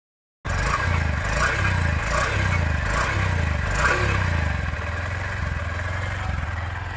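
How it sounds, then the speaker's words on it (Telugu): A Honda Livo 110 motorcycle engine idles close by, a steady low single-cylinder thrum with a faint mechanical clatter, running alone and even throughout, dropping slightly in level near the end. "విన్నారు కదా ఇంజన్ యొక్క రిఫైన్నెస్"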